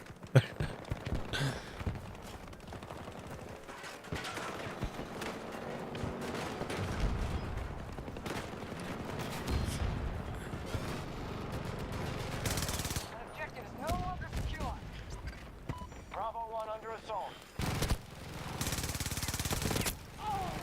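Gunfire in the video game Battlefield 2042, bursts of automatic shots and scattered single cracks over a dense game soundscape, with occasional breathy voice sounds.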